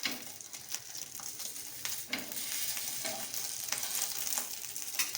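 Farali dabeli roasts in ghee on a pan, crackling and sizzling steadily at a soft, close level, with occasional small scrapes and ticks from flipping and no voices.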